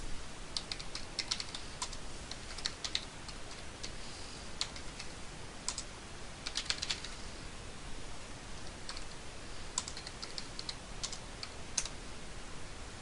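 Steady typing on a computer keyboard, key clicks tapping in uneven bursts and pauses over a constant background hiss, close by.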